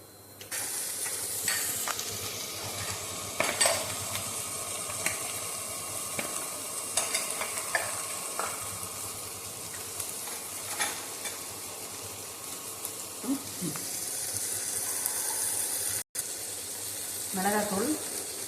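Mustard seeds and cumin sizzle in a couple of teaspoons of hot oil for a Tamil greens dish, a steady frying hiss with scattered pops and stirring clatter across nearly twenty seconds, with no talk over it.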